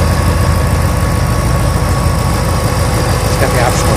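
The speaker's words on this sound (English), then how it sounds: "This 5-liter power punch motor puts out" A 2013 Roush Stage 3 Mustang coupe with a 565-horsepower 5.0 V8 idles close by, giving a steady, loud, even rumble with no revving throughout.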